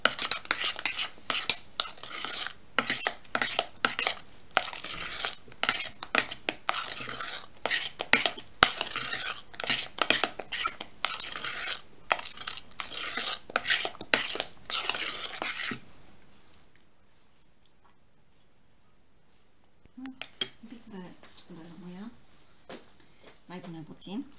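Batter being stirred by hand for a simple vegan cake, a close, rapid run of scraping and rubbing strokes against the bowl that stops, followed by a brief faint voice.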